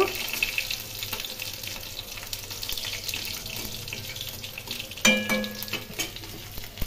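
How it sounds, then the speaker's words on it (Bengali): Panch phoron spices sizzling in hot oil in a pan, a steady frying hiss throughout with a brief clatter of cookware partway through. "পাঁচফোড়ন একটু ভেজে নেব।"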